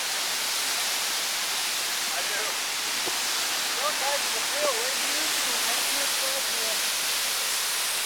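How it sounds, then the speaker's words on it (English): Roaring waterfall fills the scene with a steady, loud, broadband rush that never lets up, and scattered voices call out faintly beneath the din. "the wind being generated is all generated by the falling water"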